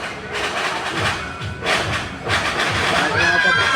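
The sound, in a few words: New Year fireworks exploding outside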